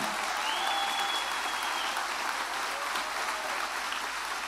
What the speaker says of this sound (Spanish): Si vas a darle un aplauso, apláudale al Señor con todo tu corazón.